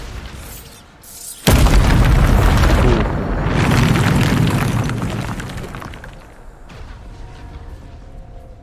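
The Bombarda spell in Hogwarts Legacy sets off a sudden loud blast that swells into a rolling, rumbling explosion lasting several seconds before fading into quieter game ambience.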